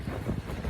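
Strong outdoor wind buffets the microphone, giving a continuous low rumbling roar that stays loud and steady through the brief moment.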